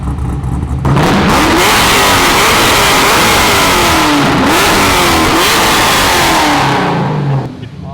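A supercharged BMW E36 wagon engine, running with no muffler, roars loudly through a series of hard revs, rising and falling in quick successive pulls with a whining supercharger note, then drops back at the end.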